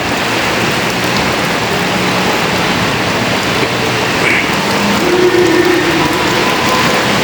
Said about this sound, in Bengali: এখনই বৃষ্টি পড়া শুরু হয়ে গেছে